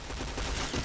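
Gunfire in a first-person shooter game played at an internet café, a dense rapid burst of shots heard loud and close, less than a second long.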